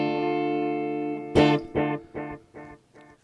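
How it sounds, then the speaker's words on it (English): An electric guitar played through echo and phaser effects on a pedal: a sustained chord rings out, then a sharp strummed hit repeats as four fading echoes in steady rhythm, clear and alone. "for the guitar, I'm gonna use the echo and the phaser effects on this pedal"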